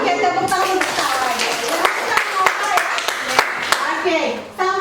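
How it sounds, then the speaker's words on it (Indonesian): Classroom clapping for a student during a maths lesson, a brisk burst of individual hand claps from a small group, close and fairly loud, with children's voices chattering underneath before it stops abruptly. "Oke, tepuk tangan untuk Salwa."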